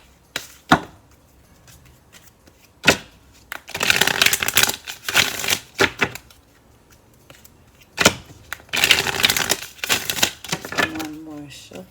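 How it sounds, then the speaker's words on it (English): Two bursts of oracle card shuffling, each a rapid riffling flurry lasting a couple of seconds, with a few sharp taps and soft handling sounds between them. "One more shuffle."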